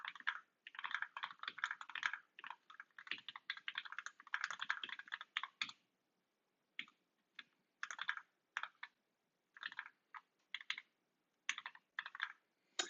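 Someone types on a newly assembled Zlant keyboard, a close, crisp run of rapid keystrokes that turns after a brief silence into slower, scattered taps and short flurries.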